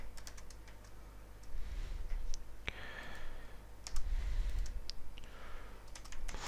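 A computer keyboard clatters as code is written, with irregular bursts of crisp key clicks and occasional louder taps, close and fairly quiet, heard alone.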